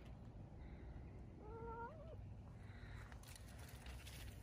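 A cat gives a single short, wavering meow outdoors in a woodland garden beside a Japanese maple, faint against a steady low background rumble.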